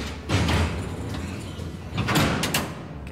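Heavy sliding door in a maximum-security prison rumbles open and shut in two loud, close surges with a brief mechanical clank, no talking.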